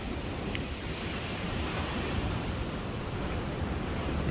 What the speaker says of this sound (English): Here we are arriving at Karioitahi Beach.